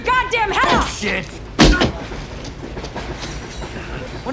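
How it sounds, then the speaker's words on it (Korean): Moving train rumbling along the tracks in an action film scene, with steady rolling noise, a loud thump partway through, and a person's strained voice at the start. "맥스를 따돌리고 달리는 기차에 올라타는 케이트."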